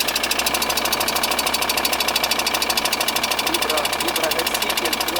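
A VW Transporter T4 from 2000 idles with a steady, fast metallic ticking from worn hydraulic lifters, a rapid even knock over a constant engine drone recorded close up.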